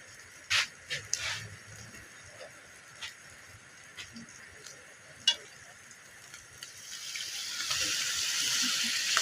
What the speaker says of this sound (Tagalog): lagay natin yung broth niya